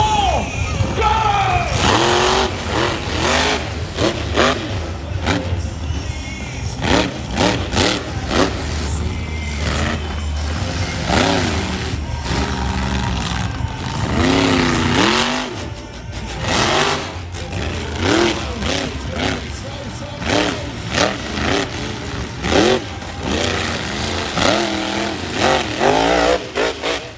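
Monster trucks Game Over and Grim Reaper race at an outdoor arena, engines roaring and revving loudly in repeated surges over a crowd while an announcer talks throughout.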